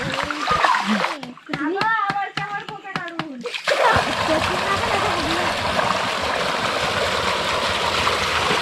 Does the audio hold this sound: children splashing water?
yes